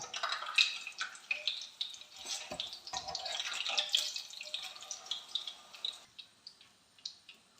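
Spinach leaf bajji fry in hot coconut oil with a faint, bubbling crackle and scattered small pops, quiet and without voices.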